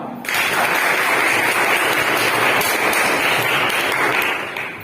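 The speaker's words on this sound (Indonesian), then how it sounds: "Tepuk tangan untuk kita semua" A classroom of eighth-grade students claps together in a dense, steady burst of applause that starts abruptly, holds loud and close for several seconds, then tapers slightly at the end.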